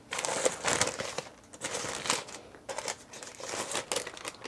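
Paper from a KFC bucket crinkles and crumples in close, repeated bursts of handling, loud and alone with no talk.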